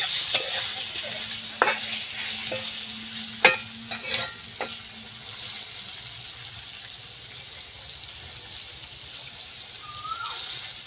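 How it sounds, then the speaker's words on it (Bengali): Raw mango pieces with turmeric frying in a pan, soft sizzling under several sharp scraping stirs and clinks near the start, then quieter steady frying. "আমটাকে একটু লালচে করে ভেজে নেব।"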